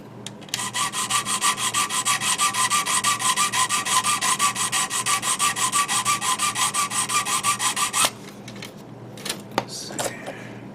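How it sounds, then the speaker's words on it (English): Sanding a small plastic part from a 1/144 HG Gundam model kit, a steady run of fast, close rasping strokes for about eight seconds, then a few scattered scrapes and light handling taps. "Actually, I'm going to sand this down now."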